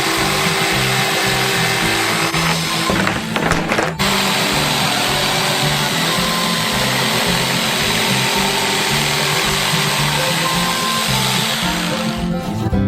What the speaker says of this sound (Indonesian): lalu memotongnya dengan gergaji kayu.